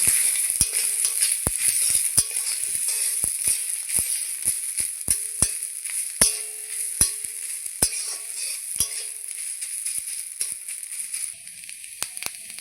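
Grated coconut fries in a pan as a continuous bright sizzle, punctuated by frequent sharp clicks of a spatula against the metal at an irregular rhythm. No one speaks.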